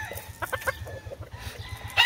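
A fighting rooster at a gamecock farm calls close by in short, clucking bursts, with a brief crow-like rise at the end and other birds faintly around.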